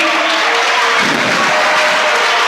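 Steady, dense applause from an audience at the final of the Génies en Herbe school quiz contest, loud and continuous throughout with no pauses.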